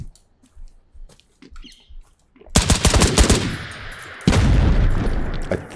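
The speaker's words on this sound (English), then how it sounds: "I'm going to throw a grenade over this wall." In the video game Operator, a grenade thrown over a wall explodes, following quiet shuffling with a sudden loud blast and rumble, then a second heavy burst of gunfire or explosion noise.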